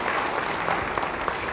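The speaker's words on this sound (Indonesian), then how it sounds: "Yang percaya, beri tepuk tangan bagi dia." Church congregation applauding during an Indonesian sermon, a steady wash of many hands clapping at moderate level throughout, with no voices standing out.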